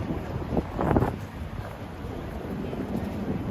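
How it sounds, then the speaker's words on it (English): Wind gusting outdoors on a night street in Manhattan near Times Square, a rough, buffeting rush against the microphone that swells early then settles into a steady low roar. "Oh, it's kind of windy, right?"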